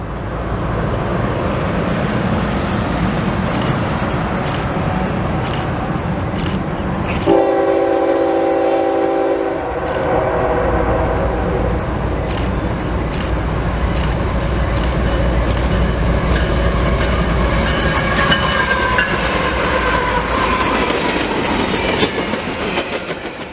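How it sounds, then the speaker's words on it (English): CSX manifest freight Q364 rolls past on the Mohawk Subdivision with a steady, loud rumble and rail clatter, and its horn sounds one long blast in the middle of the passage. "CSX Q364 is a manifest train that runs from Avon, Indiana to Selkirk, New York daily."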